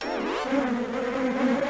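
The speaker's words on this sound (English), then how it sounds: "Oh, swarms of bees!" Swarm of bees buzzing in the video game WarioWare: Twisted!, a steady, close electronic drone that holds without a break from start to finish, with no talk over it.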